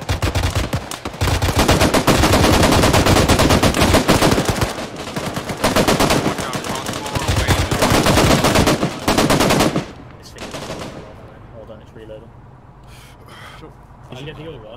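Machine gun fire in the military shooter game Arma 3, loud rapid bursts of automatic gunfire in several volleys, then fading off into quieter background sound.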